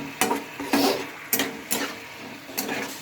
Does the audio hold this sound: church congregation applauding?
no